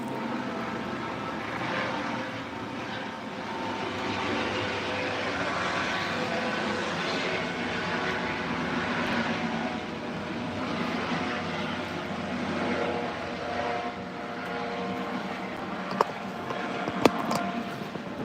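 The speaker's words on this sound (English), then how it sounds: "Helicopter." A steady, droning engine roar holds through the whole stretch, a helicopter passing overhead outdoors, with only a couple of brief clicks near the end.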